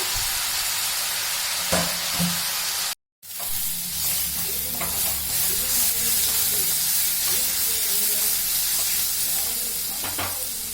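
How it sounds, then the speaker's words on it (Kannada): Continuous sizzle of stuffed ash gourd frying in a pan with scraping stirs and light utensil knocks, briefly cut to silence near the start. "ಚೆನ್ನಾಗಿ ಫ್ರೈ ಮಾಡ್ಕೋಬೇಕು"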